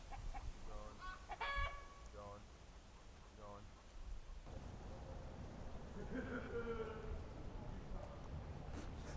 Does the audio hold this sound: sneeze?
no